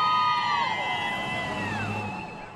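Residents cheer for wildland firefighters heading out: a crowd of whoops, high shouts and sustained voices rising together, loud and continuous, then tapering slightly toward the end.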